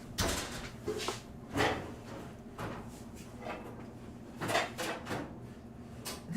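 A kitchen drawer is pulled open in a home kitchen, with several soft wooden slides and knocks scattered through the clip, close and fairly quiet.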